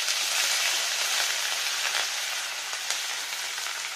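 Ginger paste fries in oil with bay leaves, a bright steady sizzle with light scattered crackles, close and continuous with no voices.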